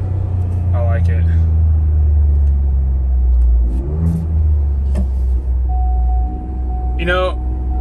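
Ford Bronco engine revving under load with a loud, steady low rumble, a DIY blow off valve dumping in short bursts and shifts between, close and continuous; someone talks briefly over it.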